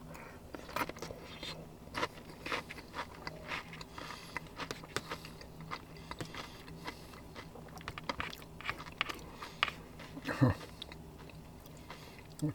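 Crunchy chewing of chili cheese flavored Fritos-style chips, close and moist with repeated bites and crunches, while a person talks intermittently.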